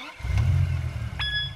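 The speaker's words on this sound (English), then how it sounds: "it's hurting just to hear the engine sound" A car engine running nearby with a low, steady rumbling drone, followed by a brief high-pitched squeal or whine near the end.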